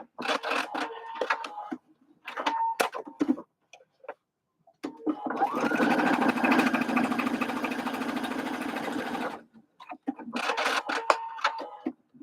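A sewing machine top stitches a bucket hat in a long steady run of several seconds, with shorter bursts of stitching before and after and quiet gaps between.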